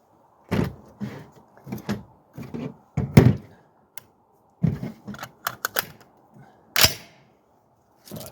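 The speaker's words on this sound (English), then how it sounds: "let's lower the flip up sight" The flip-up sight on a SCAR 17S rifle is folded down, giving a series of sharp, close mechanical clicks and thunks spaced irregularly, with a louder snap near the end and no talking.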